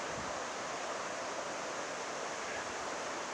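The Suiattle River rushes nearby along the Pacific Crest Trail, a steady broadband roar of flowing water with no pauses, close and constant.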